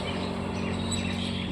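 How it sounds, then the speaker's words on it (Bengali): Myna birds chirping by a roadside, a steady busy chatter of calls over a constant low hum of background noise. "শালিক পাখি পুরো কিচিরমিচির কিচিরমিচির করে যাচ্ছে দেখো"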